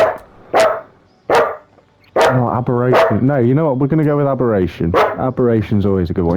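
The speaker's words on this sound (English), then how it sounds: "You have to excuse my dog. He's lovely, but he's got a lot to say." A Border Collie barks three sharp times close by indoors. Then a person talks continuously while a few more short yips break through under the voice.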